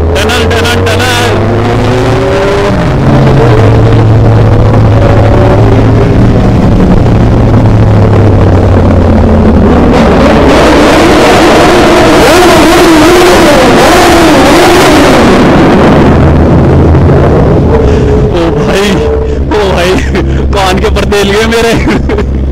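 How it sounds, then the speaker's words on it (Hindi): A Suzuki Hayabusa superbike revs hard inside a tunnel, loud booming engine sweeps rising and falling over and over, echoing throughout, with people talking over it. "सुपर बाइक होती किस लिए है, आवाजों के लिए। एंड आवाज सुन रहे इतनी मीठी मीठी"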